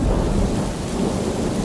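Rain and thunder merge into a loud, continuous low rumble with a dense hiss of rainfall over it, filling the whole short moment without any voices.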